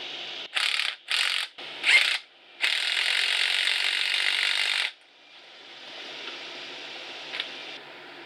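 Eibach lowering springs for a 2016 Dodge Challenger Hellcat are squeezed with a spring compressor, giving loud close ratcheting bursts in quick succession, then a longer sustained grind before fading to a quieter rattle.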